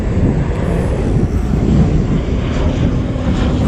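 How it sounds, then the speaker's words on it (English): An airliner on the Tauranga flight takes off at Christchurch airport, a loud, continuous low roar of jet engines heard outdoors from a distance, mixed with wind buffeting the microphone. "You may hear the Tauranga flight taking off."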